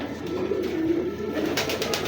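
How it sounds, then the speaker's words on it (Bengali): Close, low cooing from a pair of domestic pigeons for sale, a male and a female, heard as a steady throaty rumble with one drawn-out coo in the middle and no talking. "দেখার মতো একটা কবুতর।"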